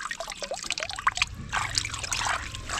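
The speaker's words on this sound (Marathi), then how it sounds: "हा एवढा बॅरल भरला पाणी." Borewell water pours into a barrel with an uneven trickling, splashing sound, close and moderately quiet over a few seconds.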